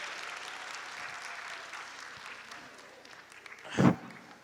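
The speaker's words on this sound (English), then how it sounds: "Give her one more round of applause" Audience applause at an interactive session, a steady wash of clapping that holds moderately quiet across the room and swells into a brief louder burst near the end.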